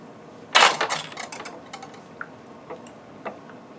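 Omelet ingredients with garlic and onion get mixed in a bowl. A sharp burst of clinks and scrapes comes first, followed by scattered lighter taps and clicks close by.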